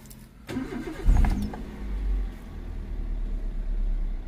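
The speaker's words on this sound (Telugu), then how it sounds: "ఒకసారి బండి అయితే స్టార్ట్ చేద్దాం మనం." A used Toyota Etios Liva petrol hatchback in original condition cranks briefly and catches, then settles into a steady, close idle with no talking.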